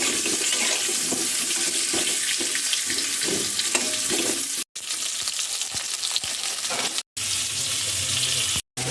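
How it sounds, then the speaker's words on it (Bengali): Potatoes coated in salt and turmeric fry in hot mustard oil in a kadai, giving a steady, loud sizzle and crackle that runs continuously, broken by a few brief silent cuts. "এবার সবার প্রথম লবণ হলুদ মাখানা আলুগুলো ভালো করে ভেজে নেব"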